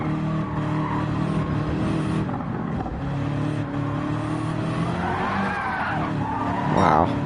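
Gran Turismo 7 race car nearly spinning out, its tires skidding and squealing over a steady engine drone, with a rising squeal toward the end; a voice talks throughout.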